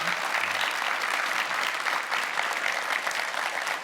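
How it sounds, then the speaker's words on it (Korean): An audience at a televised New Year town-hall event with a city mayor claps steadily and loudly throughout, a dense, even wash of applause with no other sound standing out. "여러분 박수 부탁드릴게요."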